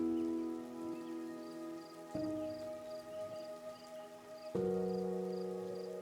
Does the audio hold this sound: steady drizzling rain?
yes